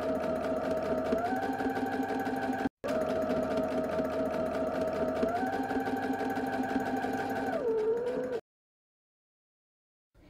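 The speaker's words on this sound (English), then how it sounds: "And then you're going to top stitch, again, along both the bottom and that top face curve." Top stitching a fabric face mask, a sewing machine hums in a fast steady rhythm at close range with one brief stop, then cuts off into silence.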